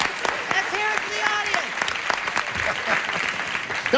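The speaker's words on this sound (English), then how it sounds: "What do you say we applaud the dummies in the audience?" Audience applause at a comedy show, a dense, steady wash of clapping throughout with a voice talking over it.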